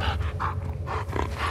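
A dog pants in The Last of Us Part II, quick rhythmic breaths close by with a low rumbling game ambience underneath.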